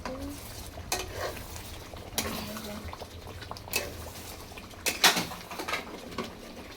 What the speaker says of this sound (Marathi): हे असं तेल सुटूपर्यंत चांगलं मस्त फ्राय करायचं.